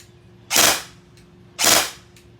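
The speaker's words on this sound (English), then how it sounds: "Now it'll be in 3-shot burst." An ARP9 airsoft gun fires two sharp, close bursts about a second apart, each a quick cluster of three snapping shots rolled together, with no talk.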